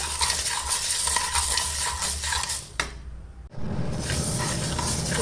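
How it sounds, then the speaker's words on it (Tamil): Dry lentils rattle and scrape against a pan as they are dry-roasted over low heat and stirred continuously, with a brief pause partway through. "கொஞ்சம் சிம்மில் வச்சு நல்லா வறுத்தணும் மணவர அளவில் வறுத்தணும்"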